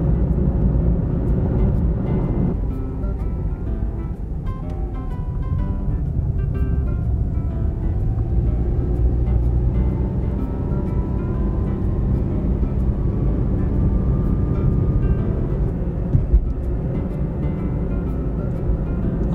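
A car drives along a road toward Aso in Kumamoto on a clear day, producing a steady, low engine and road-noise drone heard from inside the vehicle. The hum stays even throughout, with no voices.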